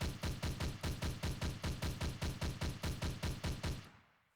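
A Minetest gun fires a rapid, evenly spaced string of about twenty sharp shots at constant loudness, then stops, leaving a short fading tail.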